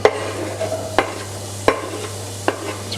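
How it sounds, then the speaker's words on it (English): Onions sweating in hot coconut oil in a pot over high heat, with a soft steady sizzle broken by several sharp, close stirring scrapes spaced about a second apart. "simply add in the onions and just sweat those off a tiny bit"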